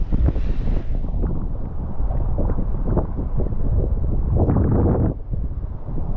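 Strong wind buffeting a microphone while drifting in a kayak on Loch Sween, a steady loud roar with gusty surges throughout, no voices.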